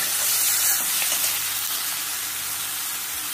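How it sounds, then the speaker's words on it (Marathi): Fenugreek leaves saute in hot oil for a Maharashtrian methi besan curry, a steady, close, hissing sizzle holding at an even level throughout. "तेल घातलेलं असतं, गरम झालेलं असतं, 5 मिनिट असं छान परतून घ्यायचं."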